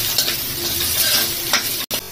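Onion fries in hot oil as it is stirred in a pan, a close, brisk sizzle with a few scraping strokes, heard briefly and alone.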